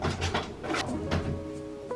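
An under-sink cabinet drawer slides open with a smooth rolling rumble and soft knocks, ending in a small clack, close by with no talk over it.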